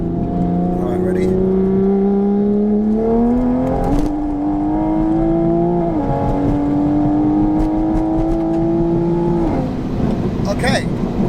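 A 760 bhp Mk5 Toyota Supra accelerates hard in 4th gear: a loud, close engine whine climbs steadily in pitch with brief shift-like dips, and voices speak over the pull.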